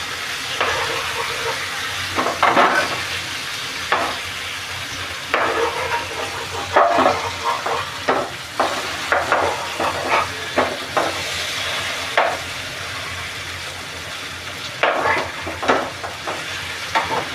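Kateri fish frying in a pan over a medium-high flame, a continuous crackling sizzle with repeated scraping and stirring bursts, close and steady throughout with no talking.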